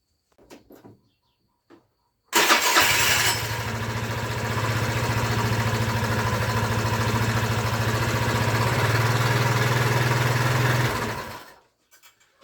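A scooter that would not start on its starter fires up and runs at a steady, loud, close idle for about nine seconds before shutting off, with brief knocks beforehand and no talk.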